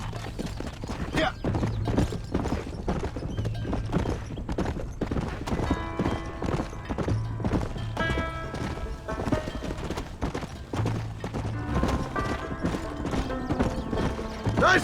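A horse in the 2010 video game Red Dead Redemption gallops with loud, rhythmic clip-clop hooves that run steadily throughout, joined by occasional whinnies and other game sounds.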